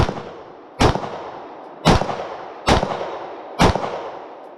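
Four sharp, loud pistol shots from a Mossberg MC1 SC 9mm, fired outdoors at slow, slightly uneven intervals, each with a short echoing tail and no talk.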